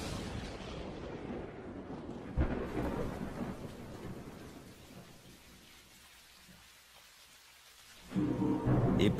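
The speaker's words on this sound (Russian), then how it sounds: "И по всему миру начинаются тропические ливни." Heavy tropical downpour hisses steadily as thunder cracks and rumbles, with a loud roll near the start and another strong swell near the end.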